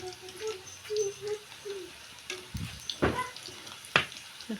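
Potatoes fry in hot oil for a fish curry, giving a soft, moderate sizzle broken by a few sharp knocks and scrapes of stirring.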